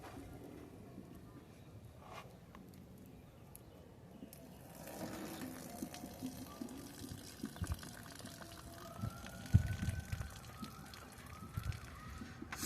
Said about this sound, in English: Just strain off the water for it.